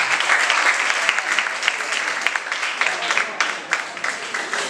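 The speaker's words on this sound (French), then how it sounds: "Est-ce qu'on peut applaudir?" An audience at an African literary talent contest claps in a steady, moderately loud round of applause that continues throughout without a break.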